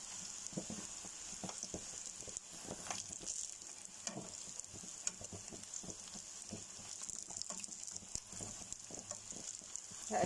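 Eggplant slices fry in hot oil with a steady, dense sizzle and crackle, punctuated by small pops, continuous and close throughout with no voices.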